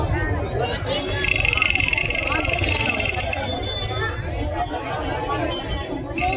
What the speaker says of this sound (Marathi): इथे खतरनाक गर्दी आहे